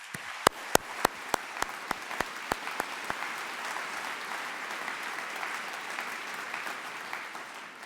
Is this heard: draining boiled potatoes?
no